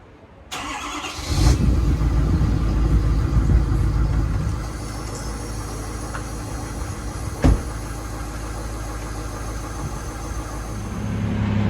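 A truck engine cold-starts after a brief crank, catches with a loud burst and rough revving, then settles into a steady, lower idle. A single sharp clunk sounds partway through, and the idle rises slightly near the end.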